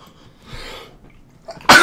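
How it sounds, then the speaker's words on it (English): One person sneezes indoors: faint breathing builds up, then a single loud, sharp burst comes right at the end. "Oh, I'm about to sneeze."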